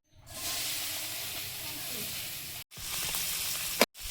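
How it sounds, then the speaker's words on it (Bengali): Spiny gourd (kakrol) fries in hot oil with a close, bright, continuous sizzle. The sizzle breaks off briefly twice and then resumes. "এবার কাঁকরোলগুলো ভেজে নেব, তারপর মাছ ভাজবো"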